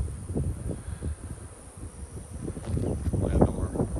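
Bees buzz around hives at an apiary on a hot afternoon, a faint, steady hum with soft rustling and a few closer buzzes passing by.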